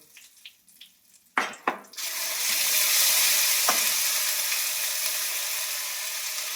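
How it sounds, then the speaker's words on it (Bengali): Chillies hit hot oil in a pan with cumin powder, a few sharp spits and pops giving way to a loud, continuous sizzle that holds steady and fades slightly toward the end. "আমি এগুলোকে একটু ভাজি, লঙ্কা দিয়ে দিলাম"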